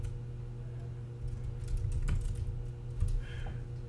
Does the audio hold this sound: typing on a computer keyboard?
yes